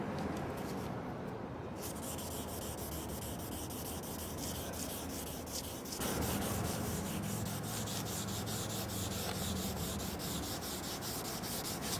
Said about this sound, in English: So we keep wetting and wet sanding.